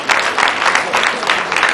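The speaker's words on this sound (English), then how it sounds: "can we clap for him?" Audience at a college inaugural lecture clapping briefly and loudly for a union chairman, a short burst of crowded hand claps with a rhythmic pulse.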